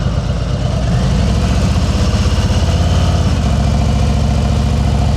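A motorcycle engine held at low revs during slow-speed riding practice, a loud, steady throbbing putter close by that deepens slightly partway through, with no voices over it.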